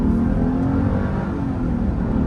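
A 1998 Mercedes-Benz E55 AMG wagon accelerates hard, giving a loud, steady low engine roar that holds constant throughout with no talking.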